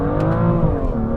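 A 2018 BMW M2 Black Shadow Edition with a dual-clutch transmission launches hard from a standstill, its engine note loud and continuous as it climbs steadily in pitch, heard close from inside the cabin.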